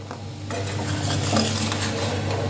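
Sugar syrup thickening in a pan for khurma is stirred continuously, with a utensil scraping and clinking against the pan over a soft sizzle.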